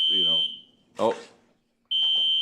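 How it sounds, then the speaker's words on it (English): A fire alarm in a city council meeting room sounds in loud, sustained high-pitched electronic tones that stop and restart, with a person speaking in the gap between the tones. "we've been having issues with the fire alarm all day, so it's likely a false alarm"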